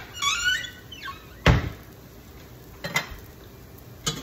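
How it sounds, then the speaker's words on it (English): A plate is set down in a home kitchen with a single sharp clatter, preceded by faint clinks and squeaks of dishes and followed by a few softer knocks and thumps, all close by with no talking. "All right, let's get a plate down."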